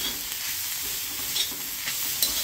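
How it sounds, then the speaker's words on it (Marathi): Red amaranth greens fry in a pan with salt added while being stirred, producing a short, steady sizzling hiss with faint scraping touches and no voices. "हलवून घेऊयात."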